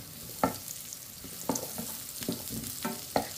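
Onions sauté with garlic in a pan for pansit sotanghon, a soft steady sizzle with periodic spatula knocks and scrapes against the pan as they are tossed.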